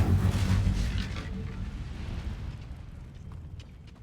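Incendio fire spell cast in the video game Hogwarts Legacy, a loud, low whooshing burst of flame that fades gradually over several seconds with a soft crackling tail.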